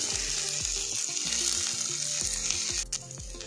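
Puffed rice tossed and stirred in a frying pan with raisins, giving a bright crackling sizzle and rustle under steady background music, close, then easing off near the end.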